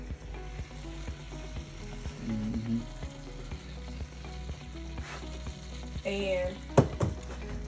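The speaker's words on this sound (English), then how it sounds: "so we gonna let that simmer. Cook and simmer for about 4 to 5 minutes" Creamy Cajun chicken bubbles and sizzles steadily in a big pot, a continuous close simmer with faint ticking clicks and a few brief clatters toward the end.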